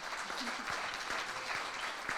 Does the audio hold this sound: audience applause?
yes